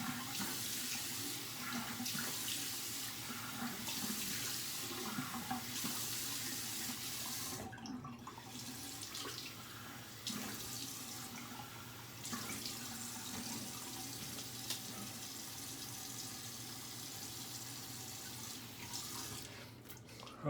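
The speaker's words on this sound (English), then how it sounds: "Okay, let's rinse off." Tap water running steadily into a sink while rinsing after a shave, a continuous hiss and splash broken briefly by short interruptions as hands move under the stream.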